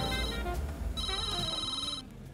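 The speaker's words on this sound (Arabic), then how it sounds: "يا هبلون اللي عم بتحكيني على التليفون وأنت قاعد ورايا بالسيارة" A telephone ringtone chimes in a repeated electronic pattern, moderately loud against a quiet background, with a short pause between rings.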